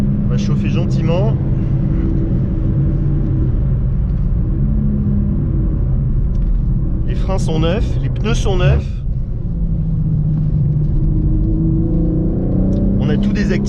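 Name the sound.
BMW M3 G80 engine warming up on track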